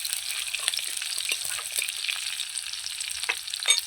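Shallots frying in hot oil in a pan, heard as a steady broad crackling sizzle with small bright pops and occasional stirring scrapes, close and moderately loud throughout.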